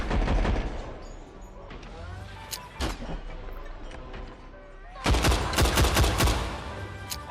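Bursts of gunfire in the VR shooting game Better Than Dead: sharp shots at the start, scattered single cracks, then a loud rapid volley near the end, with someone talking in between.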